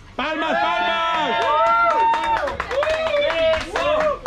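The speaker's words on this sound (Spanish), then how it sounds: "¡Palmas, palmas!" A party crowd at a ranch fiesta claps along in sharp, irregular bursts beneath loud singing voices, with the clapping strongest in the second half.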